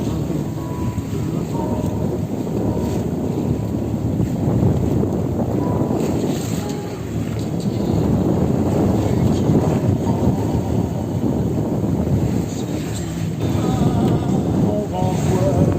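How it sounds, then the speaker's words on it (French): Steady, heavy wind roars and buffets throughout, a dense low rumble with gusty surges, heard on a boat at sea during a crossing to Corsica. "Enfoui sur les bords, on entend le vent."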